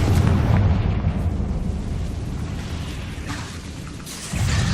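Fiery Confringo spell explosions in the video game Hogwarts Legacy, a loud booming rumble that fades slowly and then swells again near the end, with no talk.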